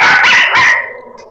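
A pet dog in the video game Castle Clash lets out two quick, loud, bright barks close up, the second trailing off into a fading tail, with no voices.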